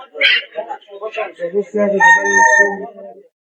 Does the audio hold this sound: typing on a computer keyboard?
no